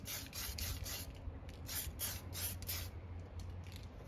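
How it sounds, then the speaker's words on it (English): A spray paint can misting paint onto an RC car body in a string of short bursts, a soft repeated hiss that pulses on and off at close range with no talking. "just like one continuous spray"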